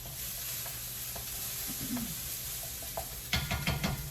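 Seasoned shrimp added to a pan of lightly browned garlic, a soft continuous sizzle with occasional stirring clicks, then a burst of louder scraping and clattering near the end.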